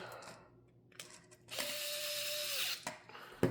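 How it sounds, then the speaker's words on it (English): An electric screwdriver drives an M3 screw into a cover, a close, steady motor whine lasting about a second amid light clicks and handling taps. "And then you're just going to screw it in"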